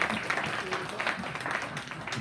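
A crowd at a candidates forum applauding, dense continuous clapping filling the room, with voices mixed in underneath.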